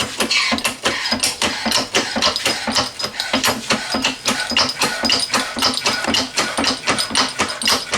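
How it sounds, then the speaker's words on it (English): A hydraulic press works to force a part into place, giving steady, dense mechanical clatter and ratcheting clicks that run close and loud throughout with no talk. "we're going to go to the hydraulic press and we're going to press it in"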